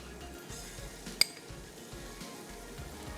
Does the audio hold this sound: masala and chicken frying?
yes